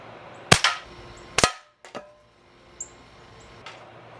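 Benjamin 312 .22 air rifle firing an RWS pellet at a can about 15 yards away: a sharp, close crack, then a second crack and fainter knocks and clatter as the pellet strikes, with quiet gaps between.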